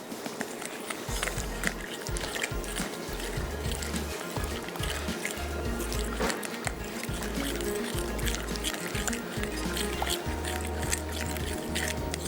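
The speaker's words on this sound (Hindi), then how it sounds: "आपने थोड़ा थोड़ा सा इसमें पानी शामिल करना है, साथ साथ फिरनी को भी चलाना है" Rice flour batter for crunchy fried beans is stirred while water is added a little at a time, giving continuous soft wet squishing and sloshing at close range.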